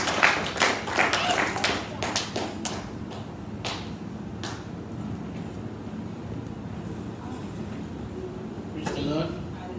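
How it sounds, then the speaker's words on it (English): Hands clap in a church congregation, sharp distinct claps clustered in the first few seconds, then sparse scattered claps over a murmuring crowd, with a brief burst again near the end. "Clap your hands and celebrate."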